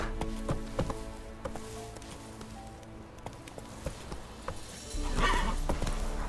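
Roach, the horse in The Witcher 3, clip-clops along at a walk with steady hoof beats, then lets out a whinnying neigh near the end; no talking.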